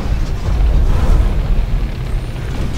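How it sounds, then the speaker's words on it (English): Explosion in the mech combat video game Hawken, a loud booming rumble that swells and slowly fades over a few seconds. "Explosion."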